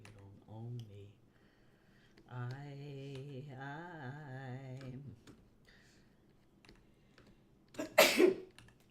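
A single loud sneeze bursts out near the end, after stretches of singing and speech, sharp and close.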